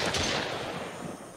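Gunfire in the survival video game Mist Survival, a burst of rapid overlapping shots at the start fading into a long echoing rumble, moderately loud with no voices.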